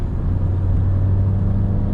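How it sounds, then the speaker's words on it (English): Steady low engine drone from a 1984 Pontiac Fiero with its 2.5 Iron Duke four-cylinder, heard from inside the car while downshifting to third on a drive, a constant close hum with no one talking. "let me downshift to third."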